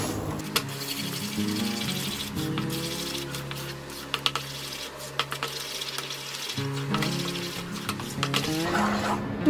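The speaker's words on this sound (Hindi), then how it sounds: "और अब इसको अच्छे से मिक्स करना है।" A spoon stirs a warming sugar mixture for barfi in a pan, soft scraping and clinking against the metal over a low background hum, close and steady with no speech.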